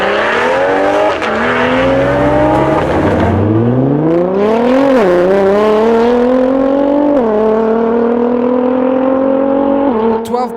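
BMW and Nissan GT-R drag racing down the strip at a private event, loud engines revving hard and climbing through several gear shifts, each drop and rise in pitch clearly heard, close and continuous.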